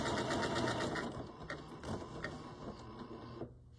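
A sewing machine stitches eyelets into fabric, a rapid close mechanical whir of needle strokes that runs steadily, then slows and stops near the end, with no talking.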